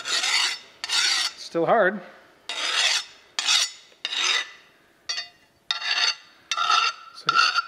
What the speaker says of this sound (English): with that file again and just see what kind of noise it makes